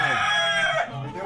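A fighting rooster crows on a rooftop in Venezuela, one loud, close cock-a-doodle-doo that fades into a lower tail, with no talk over it.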